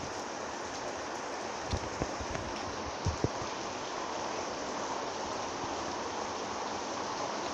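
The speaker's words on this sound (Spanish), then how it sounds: "hoy estarían viendo esta lluvia para que ustedes se relajen" Steady rain falls without pause, a dense even hiss with a few faint louder drips and taps near the start; no voices.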